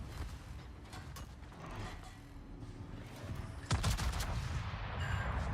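Secondary battery guns on the battleship Georgia fire in World of Warships, giving a steady stream of mechanical clanks and distant gunfire, with a sharper, louder report near the end.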